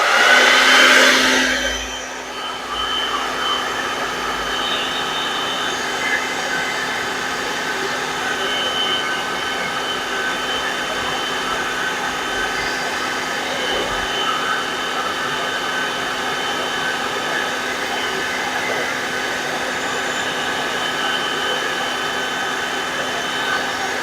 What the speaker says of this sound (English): So I'm gonna use my hair dryer